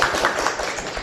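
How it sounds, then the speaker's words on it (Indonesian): A classroom group applauds a student team, a brief burst of scattered hand claps at moderate distance. "Silakan tepuk tangan untuk kelompok yang sudah menjawab."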